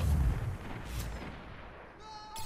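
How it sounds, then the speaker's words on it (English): Grenades launched and exploding in a video game: a heavy blast thumps at the start, then fainter booming follows, with an electronic tone near the end. "I'm just launching my nades."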